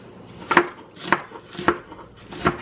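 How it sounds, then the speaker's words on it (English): A knife chopping an onion for chili on a cutting board, four distinct evenly spaced thuds close by, with no talking. "I like them kind of big, so I just kind of run the knife through them"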